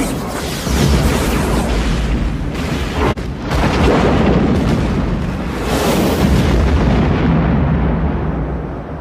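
Starship weapons firing on a fleet in a film scene, a loud continuous roar of booming blasts and rumbling explosions that fills the clip with one brief dip partway through, and no talking.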